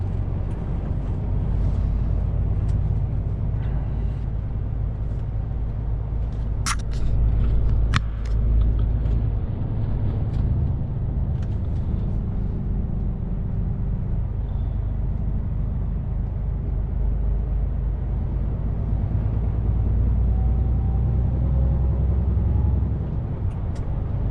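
A DAF XF 97 truck drives along, its engine a steady, loud, low rumble that holds constant with a few faint clicks, and no talk over it.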